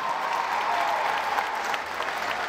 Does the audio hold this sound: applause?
yes